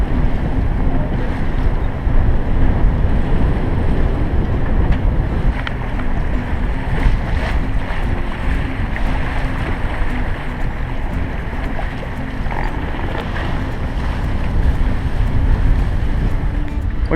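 A sailboat with one reef in and a partly furled jib sails fast on the Caribbean Sea: a steady, loud roar of wind buffeting the microphone over rushing water and waves, continuous throughout.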